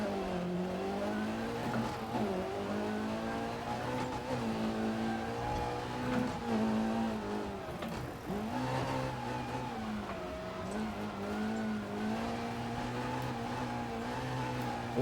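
A rear-wheel-drive BMW rally car in EA Sports WRC drives on snow and ice, its engine holding a steady harmonic drone that dips and rises with gear changes and throttle, loud and without talk.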